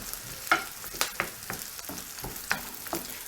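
Onions fry in a pan until brown, giving a soft steady sizzle with several close scrapes and taps from a stirring spoon, no speech.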